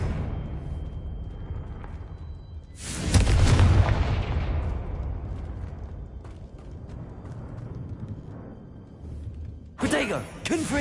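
A Confringo fire spell in the video game Hogwarts Legacy bursts with a loud, booming explosion that rumbles and fades over several seconds, followed by a second sharp blast near the end, with a voice speaking between them.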